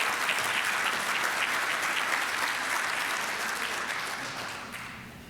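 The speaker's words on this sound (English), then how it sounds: "Let's give all of them a round of applause." An audience at a Rotary club meeting gives a round of applause, dense, sustained clapping from many hands that holds steady and then tapers slightly toward the end.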